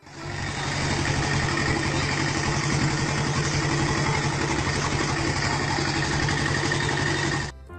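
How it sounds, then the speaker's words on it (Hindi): A vehicle engine powers a sugarcane juice machine, a loud, steady mechanical drone with rattling running without a break for about seven seconds before stopping abruptly. "इस आदमी ने गाड़ी के इंजन से ही गन्ने का जूस निकालने वाली मशीन बना दी"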